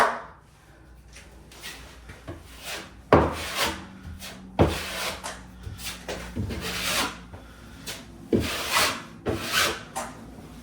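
A drywall knife scrapes and swipes joint compound over drywall screw holes in a bathroom remodel, giving close rasping strokes with sharp taps between them.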